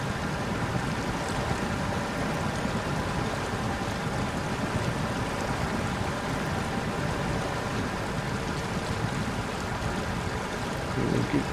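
Steady sloshing and rushing water as a Snowrunner logging truck wades through a water crossing in Ontario, a dense unbroken wash of splashing over a low engine drone, constant in level and close by.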